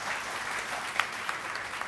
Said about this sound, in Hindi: परमादरणीय डॉक्टर कृष्णा जी, आपकी तालियों के बीच